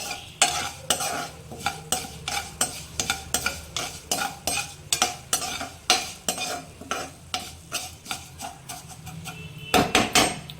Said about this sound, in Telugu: సిమ్లో పెట్టి రోస్ట్ చేసుకుంటే మంచి స్మెల్ వస్తుంది